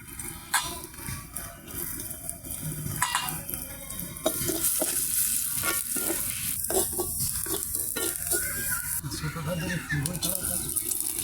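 Garlic and chopped onion stir-fried in a pan, giving a steady sizzle broken by scraping, clattering stirring strokes that grow denser and louder in the second half, with a voice faintly present underneath.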